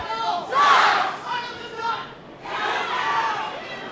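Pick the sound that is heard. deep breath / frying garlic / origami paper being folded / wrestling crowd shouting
wrestling crowd shouting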